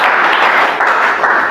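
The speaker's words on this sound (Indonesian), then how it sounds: "Berikan tepuk tangan." Classroom applause for a student's correct answer in a logarithm microteaching lesson, a dense burst of many hands clapping continuously, loud and close.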